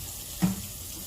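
Hot water runs steadily from a tap into a sink while items are washed and scrubbed, a constant close hiss with a brief splash in the middle.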